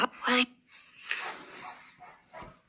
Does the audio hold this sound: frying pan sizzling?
no